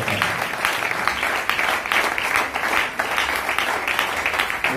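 Congregation applauding steadily through a French-language church sermon, a dense continuous wash of many hands clapping at close range with no pauses.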